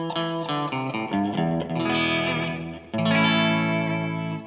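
Electric guitar through an amp set for a bit more edge with slight distortion: a quick run of picked notes followed by sustained, chorus-tinged chords, with a fresh strummed chord near the end, played alone.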